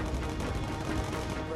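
Bomber gunners firing their turrets against fighter swarms during a factory bombing raid in Bomber Crew, a dense, continuous rattle of shots for the whole short clip.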